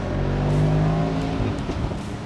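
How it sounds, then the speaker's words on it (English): Mercedes SL 63 AMG twin-turbo V8 exhaust roaring loud and close under hard acceleration, a deep sustained drone with rising engine tone and rough crackling texture through the whole stretch. "Listen to that exhaust."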